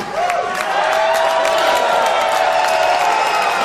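Wrestling crowd at an IWC Night of Legends event roars steadily, a dense continuous wash of cheering and applause filling the whole stretch at loud, constant level.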